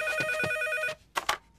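A telephone bell rings loudly in two bursts, a long sustained ring followed by a short pause and a briefer second ring, heard alone without talk.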